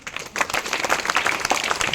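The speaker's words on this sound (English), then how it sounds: "So give them huge round of applause." A school audience applauds students after a traffic-signal experiment at a school speech event, with dense clapping from many hands that swells after a brief quieter start and carries on steadily.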